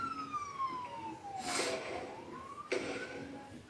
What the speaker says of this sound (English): a police car with sirens blaring drives past